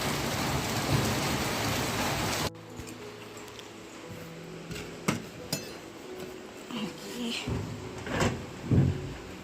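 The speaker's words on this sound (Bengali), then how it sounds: "আকাশ ডাকছে, শোনো।" During rain, a steady downpour hisses loudly, then cuts off abruptly to a quieter scene where low rumbles of thunder and scattered knocks and thumps come and go in the distance.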